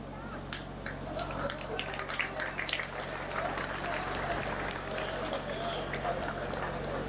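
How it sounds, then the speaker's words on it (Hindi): A live audience at a Hindi poetry recital gives scattered, fairly light applause, a thin patter of claps over a low background hum. "तालियां कम है हालांकि आपकी,"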